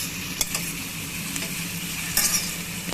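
Onion and cashew nuts frying in oil for paneer biryani, a continuous close sizzle with stirring clicks and a short burst of louder spattering partway through.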